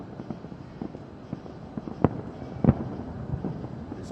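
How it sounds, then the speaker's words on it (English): Fireworks go off outdoors during a Fourth of July celebration, with two sharp bursts standing out over a steady crackling, sparkling background of distant pops. "like the way these fireworks are just sparking"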